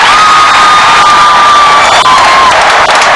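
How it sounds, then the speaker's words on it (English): Singapore fans roar after a goal in a football match, a loud, dense crowd cheer that holds steady throughout, with a sustained horn-like tone riding over it. "Abbas's name announced, and the Singapore fans cheer"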